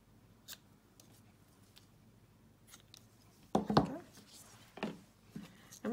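Ribbon scissors snip through ribbon in a quiet room, giving a few close, sharp cuts and rustles after a near-silent start.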